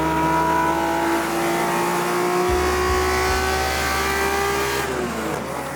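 A sports car engine revs steadily higher toward 8,000 RPM, a loud, sustained mechanical whine climbing in pitch before easing off near the end.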